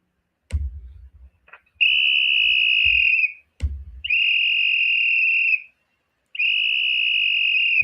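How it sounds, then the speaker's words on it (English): Three long, shrill whistle blasts ring out one after another, each preceded by a dull thump, loud and close, with silence between them; a whistle blown to call white chickens to feeding. "when he blows the whistle, they know it's feeding time"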